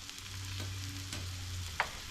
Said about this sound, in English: So we're going to sear these through.